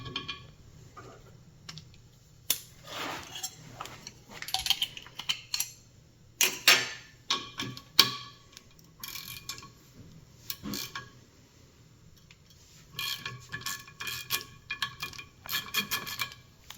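Cutter being flipped on a Storm Vulcan block master machine: scattered sharp metallic clicks, taps and clinks from hand tools and fasteners, irregular and close, with quiet gaps between bursts of handling.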